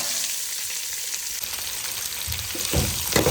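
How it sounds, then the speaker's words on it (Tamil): Chopped vegetables and curry leaves fry in a pan for sambar, giving a loud, steady sizzle with a brighter burst partway through and a few stirring scrapes near the end, with no speech. "இது கூட நம்ம வெட்டி வச்சிருக்கிற காய்கறிலாம் சேர்க்குறோம்."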